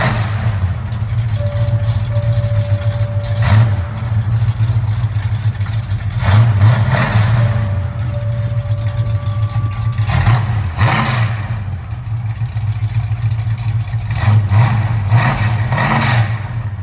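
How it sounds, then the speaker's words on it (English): A Ford Mustang Mach 1 V8 with an H-pipe breathes through Hooker mufflers, a deep burbling idle broken by several short throttle blips that swell and fall back, heard close with construction noise nearby. "Those hooker mufflers sound really good."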